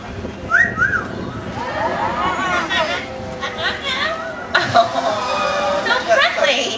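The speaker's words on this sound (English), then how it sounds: "he is an Amazon parrot" An Amazon parrot at a marine park bird show squawks and whistles in short calls, heard amid crowd chatter and background voices.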